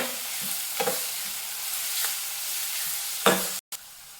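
Onion with a little turmeric fries in oil in a pan, giving a steady, close sizzle. A few scraping stirs sound through it before a brief dropout near the end.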